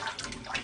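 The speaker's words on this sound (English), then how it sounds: "Pick up your rice, grind it together under the water." Tap water runs steadily over rice being rinsed and rubbed by hand, a brief close wash of splashing and gurgling with no talking.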